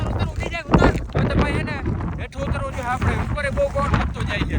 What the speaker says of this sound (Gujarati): પવન એટલો વધી ગયો ને કે આપણે ઉભા નથી રહી શકતા.